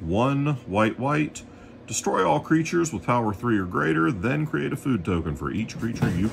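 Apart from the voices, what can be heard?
No everyday noises stand out.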